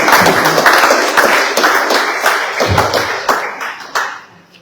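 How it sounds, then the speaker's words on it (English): An audience at a Vigo Blake Day 2024 commemoration claps, with distinct, close hand claps that form a loose rhythm before the applause thins and fades at the end. "I want us to just applaud Baba Vigo and his team."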